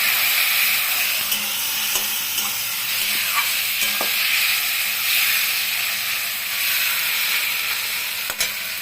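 Fish curry sizzling loudly in a pan right after water is poured in, a continuous close hiss and spatter with a few sharp crackles, no talking.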